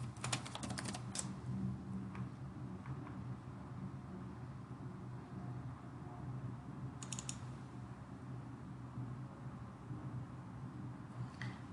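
Soft keystrokes on a computer keyboard while entering a material name in a Revit asset browser. A short flurry of clicks comes first, then isolated taps and another quick burst, all faint and close over a quiet room hum.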